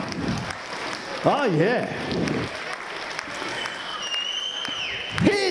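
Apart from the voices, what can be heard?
audience applause at a charity auction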